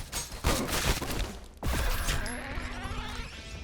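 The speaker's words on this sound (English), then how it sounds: "Somebody's shooting from in there." Gunfire in the video game Reservoir Dogs: Bloody Days: rapid bursts of shots and crashing impacts crowd the first half, then one sharp blast gives way to a ringing, echoing tail, loud and dense.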